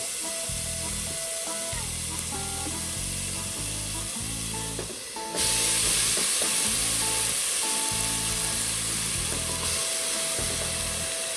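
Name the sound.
onions sizzling as they are dumped into a hot pot for Brunswick stew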